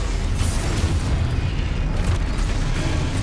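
A Confringo blasting spell goes off in the Hogwarts Legacy video game, giving a loud, dense booming burst that rolls on for a few seconds with rumbling low-end and crackling debris, with no talk over it.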